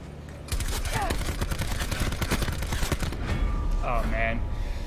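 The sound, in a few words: gunfire in video game COD Blackout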